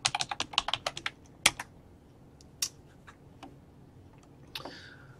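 A password is typed on a computer keyboard in a quick burst of crisp key clicks, followed by a few scattered single taps, close and clear with no speech.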